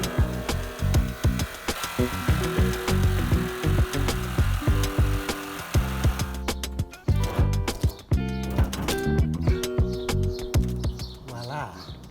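A jigsaw cuts a window opening into the metal side panel of a VW Crafter van, giving a continuous, loud, rattling buzz broken by repeated sharp clatters.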